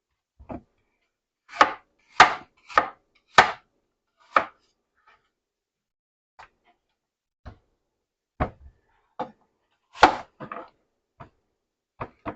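Apples being chopped with a knife on a cutting board for a deep dish apple pie: sharp, close, irregular knife strikes spaced by pauses, alone without talk.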